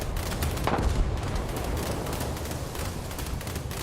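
A ship's machine guns fire in War Thunder naval combat, a dense, unbroken crackle of quick popping shots with a heavier thump early on, loud and near throughout.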